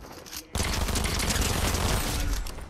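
Rapid submachine gun fire in a Fortnite match, loud and dense, bursting in after a short lead-in and rattling on without a break to the end.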